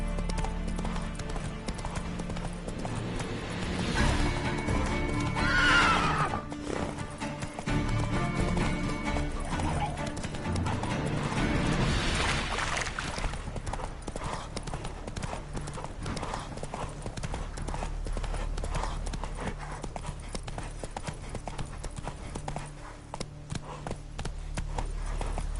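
Rapid rhythmic hoofbeats of a horse galloping in a PS4 video game, close and steady for the whole stretch, with a neigh early on and game sounds layered around it.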